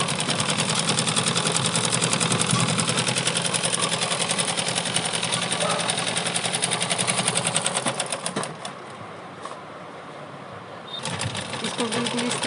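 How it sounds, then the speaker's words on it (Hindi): A sewing machine stitches elastic onto a simple pant in a fast, steady mechanical whir up close. It briefly stops and then restarts, with a voice speaking at times. "इसको बिल्कुल इस तरह से खींचते हुए हमने अपनी इलास्टिक पर सिलाई लगा ली"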